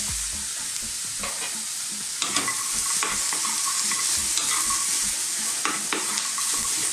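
Green beans stir-frying in a hot, fairly dry wok, a bright steady sizzle with repeated scraping and tossing clatters from a utensil, close and loud with no speech.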